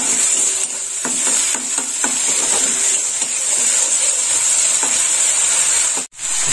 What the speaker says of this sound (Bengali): পেঁয়াজটা একটু লাল লাল ভাজা হবে।